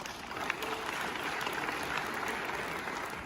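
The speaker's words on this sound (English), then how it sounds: "May I have a round of applause for Caleb?" Sustained applause from a conference audience in Antwerp greeting a speaker, an even wash of many hands clapping at moderate distance, steady from start to finish with no voices rising above it.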